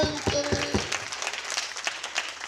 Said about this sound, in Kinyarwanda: Dukomere Yesu amashyi.